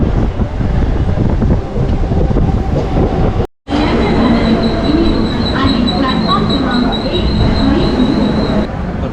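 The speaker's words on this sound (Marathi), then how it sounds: "ही बघा 552ची ट्रेन आहे विक्रोलीला." A local train at Vikhroli railway station in Mumbai rumbles loudly and steadily with wind buffeting, a brief dropout, then continuing with a high metallic wheel squeal.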